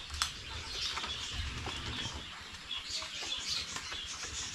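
A pet bird named Waki flaps and calls close by, a busy stretch of wing flutters and bright chirps over a low rustling background, with no one speaking.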